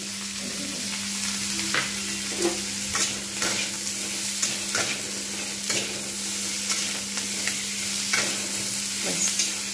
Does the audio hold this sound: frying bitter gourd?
yes